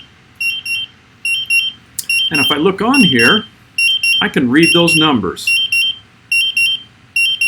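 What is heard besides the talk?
confined space gas meter alarms beeping during bump test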